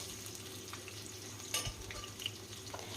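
Potatoes fry in a pan for a drumstick vegetable curry, with a quiet, steady sizzle and occasional soft stirring knocks, one slightly louder clatter near the middle.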